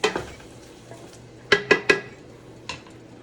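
Chopped onion goes into a cooking pot for homemade vegetable beef, giving three quick clattering knocks of utensil on pot mid-clip after an opening clink, then a last softer knock, over a faint low hum with no talk.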